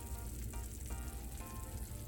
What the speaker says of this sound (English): our macaroni and cheese is out and all sizzling